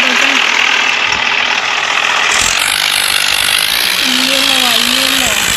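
Tractor engine from a tractor tug-of-war video game pitting Swaraj, Sonalika and Arjun tractors, a loud steady droning rumble throughout, with a rising and falling engine whine near the end and someone talking excitedly over it.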